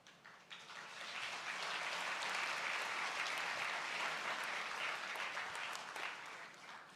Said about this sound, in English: They will only applause when you announce the billions, not otherwise.